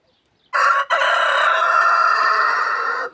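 A rooster crows once at close range, a loud, bright, drawn-out call after a short catch at the start, ringing for about two and a half seconds with no talk.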